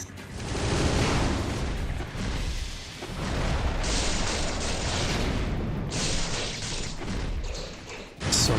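A heavy explosion follows a boss's wing sweep attack in Ninja Gaiden Sigma on Hero Mode, with deep booming rumbles and thuds rolling across several seconds amid loud, noisy blasts that rise and fall.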